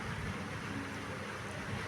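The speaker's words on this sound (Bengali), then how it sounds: "অনবরত কিন্তু বৃষ্টি হয়ে যাচ্ছে।" Steady, continuous rain falls without a break at even loudness. It is a dense, hissing wash with no voices.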